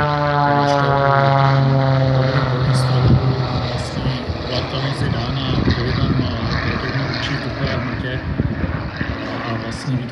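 A propeller aerobatic airplane performs at an air show at Čáslav airfield, its engine droning loudly and steadily with a shifting pitch as it maneuvers overhead.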